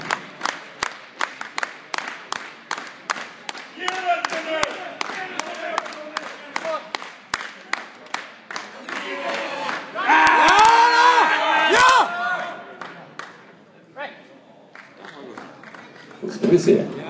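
Spectators at a Swedish wrestling championship in Nässjö clap in a steady rhythmic beat, then break into loud cheering and shouting that swells and fades, with a commentator talking over the crowd.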